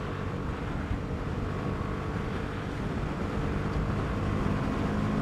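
A BMW G310R motorcycle cruising along a road on a 2018 test ride, its single-cylinder engine a steady, loud drone that is mixed with wind rush and builds slightly toward the end.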